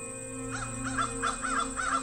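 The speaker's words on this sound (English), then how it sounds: "Or are they crows or ravens?" Several crow caws from a video game repeat in a steady rhythm over a constant electronic hum and tonal background, sounding synthetic and moderately close.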